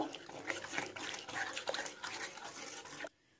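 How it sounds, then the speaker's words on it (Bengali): Water is poured from a measuring bowl into a pan on a gas stove while making semolina dough for rospuli pitha: a steady, close splashing pour lasting about three seconds that ends abruptly. "2 বাটি জল দেব।"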